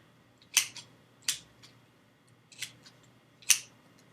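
Scissors snip at the tip of a handmade wand, four crisp separate cuts spaced about a second apart, close and fairly quiet against a near-silent background.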